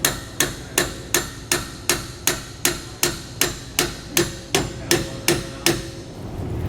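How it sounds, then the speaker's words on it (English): A hammer gives about seventeen light, evenly spaced taps to seat a MORryde rubber equalizer on a tandem-axle travel trailer, each tap a sharp, close metallic knock with a short ring. No one speaks. "with just light taps of the hammer, it's going right in there"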